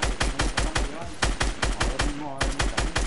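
Rapid video-game gunfire hammers a built wall, dense bursts of sharp shots in a steady rattling rhythm, loud and close.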